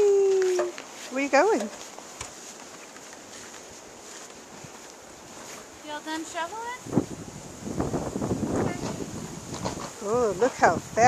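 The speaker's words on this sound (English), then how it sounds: "Whee, it's windy." Wind gusts outdoors, with gentle buffeting at first that turns into a heavier, uneven rumble against the microphone in the second half, while voices talk intermittently nearby.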